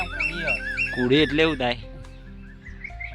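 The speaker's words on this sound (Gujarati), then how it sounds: "આ પક્ષીઓ ખાવા આવી ગયા" Birds calling around a farm field planted with millet and cowpea: pigeons, sparrows and others give loud close chirps and honking calls in quick bursts, with someone talking over them.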